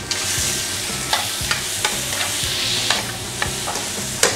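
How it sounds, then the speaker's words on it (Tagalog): Prawns and calamari sauté in hot oil with garlic, a steady close sizzle broken by regular scrapes and clicks of a stirring utensil against the pan. "Lagay na natin yan yung ating prawns and yung ating calamari."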